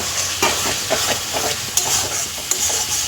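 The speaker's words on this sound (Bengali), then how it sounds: "দেখুন তেল বুজবুজ করছে" Oil bubbling and sizzling in a pan while cabbage with shrimp fries, with a steady hiss dotted by small crackles and pops, close and continuous without talk.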